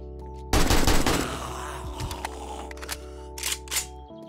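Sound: AK rifle gunfire in the video game 7 Days to Die

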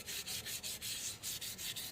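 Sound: light sanding with sandpaper

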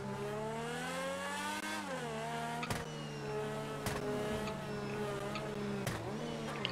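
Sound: Ferrari car driving off in GTA 5 video game

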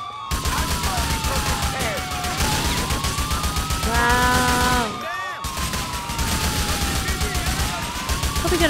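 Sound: gunfire in the video game Grand Theft Auto IV

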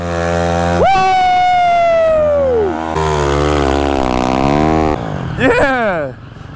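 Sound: motorcycle burnout, rider burning off the rear tire

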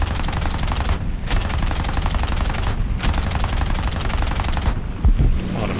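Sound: machine gun fire in the War Thunder video game

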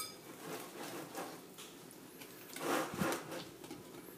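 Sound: mixing Bredele cookie dough in a bowl

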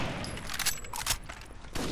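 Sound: gunfire in the video game Rainbow Six: Vegas 2

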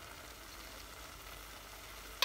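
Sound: stirring milk powder into carrot ladoo mixture in a pan

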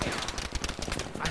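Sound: gunfire in the video game Battlefield V

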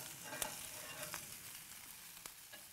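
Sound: sausages sizzling on a grill

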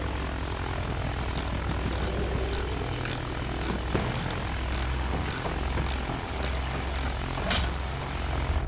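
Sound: enemy aircraft engine in Battlefield 1 video game

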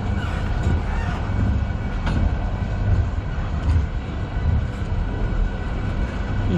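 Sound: CN manifest freight train passing at night

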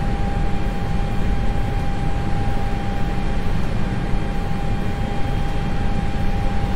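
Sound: Concorde engines taxiing in X-Plane 11 video game

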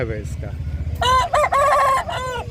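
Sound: rooster crowing at poultry market

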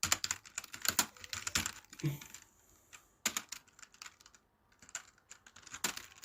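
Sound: typing code on computer keyboard

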